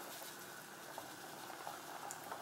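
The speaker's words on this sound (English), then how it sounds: "Once the water starts boiling like this, you wanna lower down your temperature to 2." Water boiling in a pot for yellow rice, a steady close bubbling and hiss with small pops scattered throughout, heard alone without talk.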